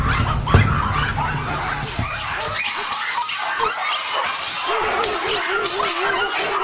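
Dogs at a puppy mill whimper, yip and bark in a steady, fairly loud chorus, with high whines carrying throughout and a rougher bark-like burst near the start.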